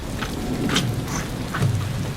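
Monsoon rain hisses steadily during a storm in Nepal, with soft low thunder rumbles underneath, loud and close with no voices.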